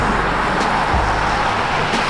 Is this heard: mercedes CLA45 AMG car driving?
yes